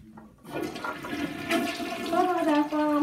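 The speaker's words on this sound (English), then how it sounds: "let's just flush it." Household toilet flushing after a bath bomb: a sudden rush of water starts after a brief quiet moment, then swirls and gurgles steadily as the bowl drains, close and fairly loud.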